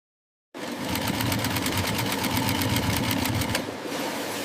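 An industrial sewing machine stitches football jersey panels in a factory, starting abruptly after silence and running as a loud, steady, close whirring drone with a fast rhythmic chatter for about four seconds.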